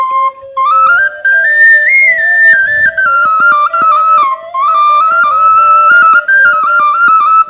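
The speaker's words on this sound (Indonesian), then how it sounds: "Ini bansi juga namanya. Ini bansi yang kecilnya." A small bansi, the Minangkabau bamboo flute, plays a bright, sustained melody that bends and wavers in pitch. It is loud and close, with brief breaks for breath between phrases.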